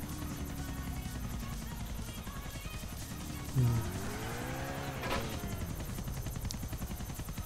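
A helicopter in the video game GTA Vice City gives a steady whirring rotor and engine drone that fills the whole stretch, with a brief swooping rise and fall in pitch midway.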